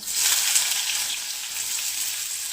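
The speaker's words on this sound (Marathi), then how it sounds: "आता छान असं लालसर उतरून आपल्याला कांदा परतून घ्यायचा आहे" Chopped onion frying in oil with cardamom, clove, black pepper and a piece of cinnamon, a steady close hiss of sizzling that runs unbroken, with no talk over it.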